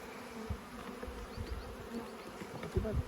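Bees buzz while a colony is being moved into a new hive, a soft, fluttering drone with individual insects passing near the microphone, plus occasional low thumps and handling bumps, fairly quiet overall.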